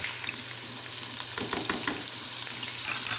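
Chicken fries in a pan with ginger garlic paste, giving a steady close sizzle with soft crackles and a brief stirring scrape, fairly quiet and without talking.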